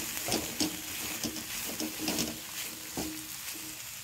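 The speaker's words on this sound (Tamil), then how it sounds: "ஒரு கையளவு தேங்காய் துருவல் ஆட் பண்ணிக்கலாம். நல்லா வதக்கி விட்டுக்கலாம்." Tomato and grated coconut sauté in a pan for a chutney, a steady close sizzle with scattered scraping stirs of a spoon against the pan, no voices.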